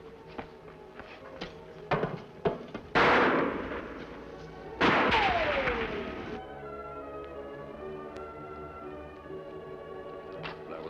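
Loud gunshots in an old western TV show, with two sharp blasts about two seconds apart, each followed by a ringing ricochet-like decay, and a few lighter clicks before them, against a steady background hum.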